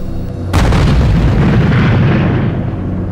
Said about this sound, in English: There's been another explosion in a similar direction about an hour and 10 minutes after the last.